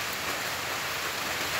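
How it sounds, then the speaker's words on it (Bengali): Steady morning rain falling outdoors, a continuous even hiss of drops on surfaces with no break, moderately near and alone without any voices. "সুন্দর লাগতেছে সকালে, বৃষ্টি পড়তেছে।"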